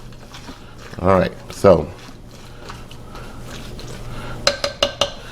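A spoon scraping and clinking inside a pot or bowl while stirring tomato puree into a pulled pork mix for a slow cooker, a few muffled strokes then quick metallic taps, close, with someone talking briefly.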